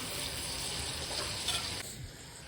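Garlic paste sizzles in hot oil while tempering dal, a dense, even hiss that suddenly drops lower near the end, close and fairly loud.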